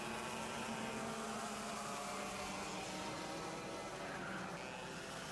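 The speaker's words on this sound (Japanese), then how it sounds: "2番手にカーナンバー40番の石崎選手が2番手を走行中です" Cadet-class racing karts run a final on a circuit, their engines blending into a continuous distant droning buzz with a faint shifting whine, steady throughout and with no nearby talk.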